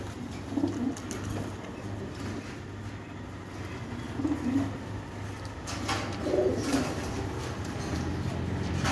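Pigeons, including a large white one, coo at a market stall in a low, repeated murmur, with several soft rolling calls surfacing over steady background noise.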